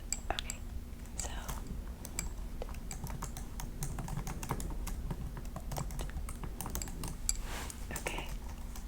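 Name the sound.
typing on a computer keyboard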